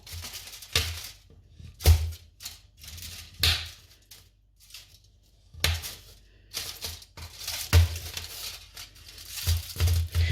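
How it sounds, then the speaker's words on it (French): Chocolate chopped coarsely with a knife for peanut caramel brownies, a series of close, uneven thunks and crunches on a board, some hard knocks among softer cuts, over about ten seconds with no talking. "On va découper nos morceaux de chocolat vraiment grossièrement."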